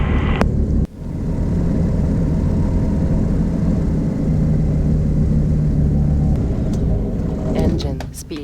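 An experimental light sport airplane back-taxis on runway 10 at Bimini in the Bahamas, its engine a steady close drone that holds continuously after a brief dip near the start.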